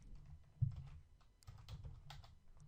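Soft keystrokes tap on a computer keyboard in short, irregular bursts, close and quiet, with a brief pause partway through before the typing resumes.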